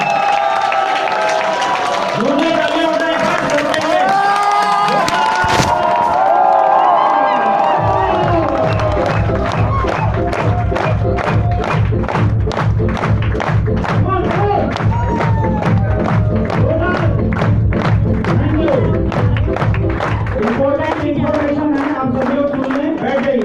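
A seminar audience cheers and shouts, then breaks into loud, sustained rhythmic clapping that fills the hall before fading, with voices mixed into the crowd noise.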